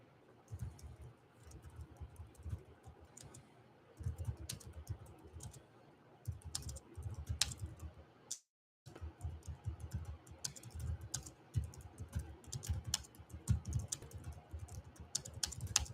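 Rapid, uneven keystrokes on a computer keyboard, close and fairly quiet, coming in steady bursts with a brief silent gap midway, with no talking.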